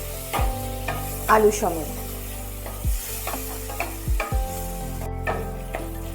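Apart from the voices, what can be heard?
tomatoes and potatoes frying in oil while stirred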